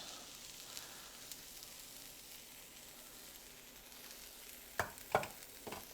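Browning mushrooms and newly added onions sweat in a pan, giving a soft, even sizzle throughout, with a couple of sharp utensil clacks near the end.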